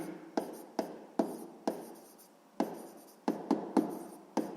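Pen or pencil writing by hand on paper while a math exercise is worked out, a close, quiet scratching in short strokes with brief pauses, no talk.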